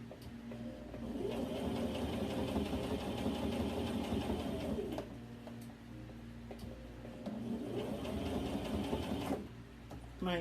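A sewing machine stitches a T-shirt hem in a steady, continuous whir, running in two long bursts with a short slowdown between them.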